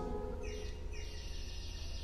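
Bird whistle effect on the Wichita Wurlitzer theatre organ, giving two brief warbling chirps that rise and fall over a steady organ drone with a low rumble.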